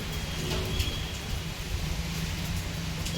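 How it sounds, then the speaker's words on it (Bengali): Steady rain pours outside a small shop, a constant dense hiss with a low rumble beneath it. No voices are heard. "এখন পুরা বৃষ্টি হচ্ছে বাইরে"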